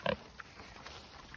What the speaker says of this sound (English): Pigs are now eating some